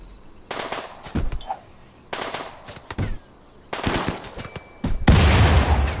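Gunfire in the video game RimWorld, rapid bursts of shots in several clusters separated by short pauses, ending in a louder, denser barrage.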